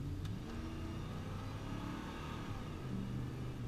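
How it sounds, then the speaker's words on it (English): A 1990 truck's 350 V8 engine runs close by with a steady, throaty low rumble and a slight rising rev, the throttle body audible throughout with no voices over it. "You got the nice little throttle body sound."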